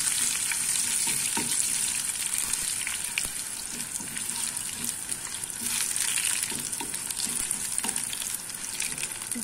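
Curry leaves crackle and sizzle in hot oil for the tempering of a gongura prawn curry. The frying is a continuous, close, moderately loud spatter with light stirring and no voices.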